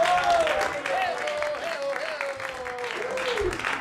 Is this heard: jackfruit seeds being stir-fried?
no